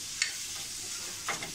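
Chopped ginger and garlic sauté in a pan with a steady, soft sizzle, and two short scrapes of a spoon stirring the pan break through near the start and end.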